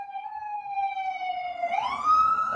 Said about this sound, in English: That was a weird siren.